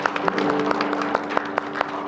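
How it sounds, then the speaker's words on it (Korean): A church congregation claps together in a loose, steady applause, individual claps popping out over a soft background hum, with a voice speaking faintly beneath. "이곳에 불러주신 하나님께 영광의 박수 올려드리겠습니다"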